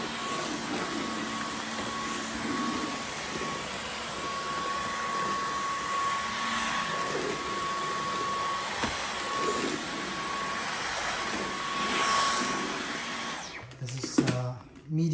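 A Dyson V15 Detect cordless vacuum cleaner runs on its medium setting with a steady, close whirring hum while a person talks over it.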